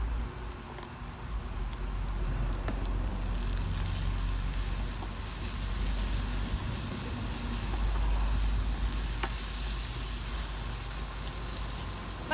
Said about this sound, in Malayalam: ഇപ്പോൾ സവോളയും വെളുത്തുള്ളിയൊക്കെ നന്നായിട്ട് വഴന്നിട്ടുണ്ട്